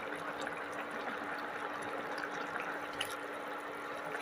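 Drumstick, potato and tomato curry gravy simmers in a pot, giving a steady, soft bubbling hiss that stays even and continuous throughout, with no talking.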